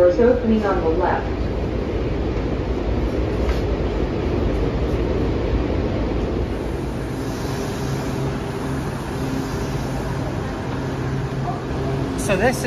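A DC Metro train pulls into Franconia Springfield Station, the southernmost stop on the network: rumbling wheels and motor hum slowing to a steady tonal whine, with a soft high chime near the end.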